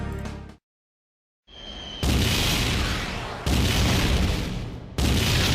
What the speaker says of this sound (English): What's causing those explosions?